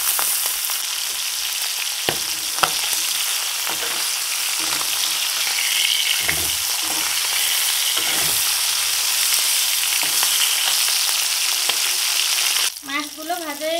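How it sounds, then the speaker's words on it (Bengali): Tengra fish fry in hot oil in a wok, a steady dense sizzle and crackle filling the whole stretch, with occasional stirring knocks, before a brief different sound near the end. "মাছ ভাজার জন্য কড়াইতে তেল দিয়ে দেব।"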